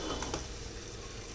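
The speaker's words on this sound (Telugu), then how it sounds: "మధ్యలో పనసకాయ ముక్కల్ని కలపాలి, ఎందుకంటే కింద అడుగు మరి మాడిపోతుంది కదా" Jackfruit pieces are stirred in a biryani pot: two quick scraping strokes over a soft, continuous sizzle, heard up close with no talking.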